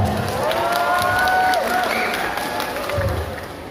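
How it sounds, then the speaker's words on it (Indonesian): A crowd at a student and lecturer rally in support of Palestine claps and cheers in a steady wash of applause, with raised voices ringing through the noise. "Tepuk tangan buat kita semua."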